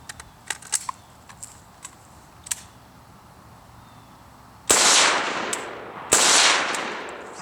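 A Tapco AK magazine dropped onto hard ground gives a few light clacks early on, then two loud broadband crashes of impact close by, with no talking.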